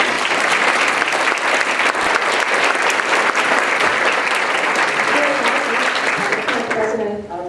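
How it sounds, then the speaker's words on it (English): Audience applause for award nominees at a business awards ceremony, a full, steady round of clapping that holds for several seconds before tapering off at the end as a voice begins speaking. "I'd like to have a nice big round of applause for all of our nominees one more time."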